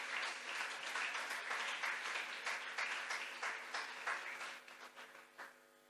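An audience claps and applauds in a dense, lively burst of many hands, strong at first and then thinning out into a few scattered claps as it fades away at the end.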